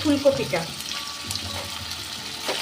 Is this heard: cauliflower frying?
yes